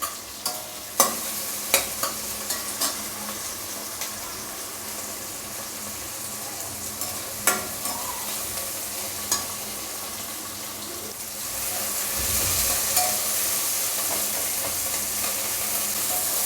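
Tomato and onion sauté in a pan for sambar, with a steady soft sizzle, occasional sharp stirring clicks against the pan, and a louder hissing surge near the end.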